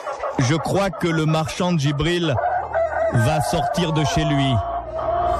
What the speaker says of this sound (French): nous entendons le coq chanter